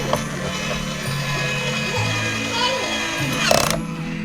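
A screw being turned into a plastic toy fire truck construction kit, giving soft ratcheting, clicking mechanical sounds under ongoing chatter between an adult and a young child nearby.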